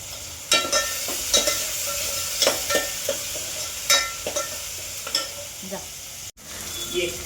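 Masoor dal with green chillies roasting in a pan, sizzling steadily while a spatula scrapes and taps in irregular strokes, close up and without speech.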